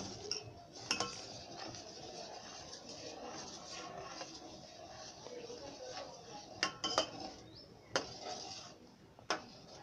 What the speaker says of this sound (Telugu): ఈ విధంగా పాలు బాగా మరుగుతూ ఉండగా జీడిపప్పు పొడి వేస్తూ కలుపుతూ ఉండాలి.